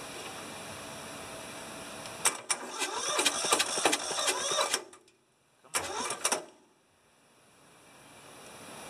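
An old, rusty tractor engine over fifteen years old cranks and fires into a rough, loud run for a few seconds, cuts out briefly, then catches again in a short second burst before going quiet.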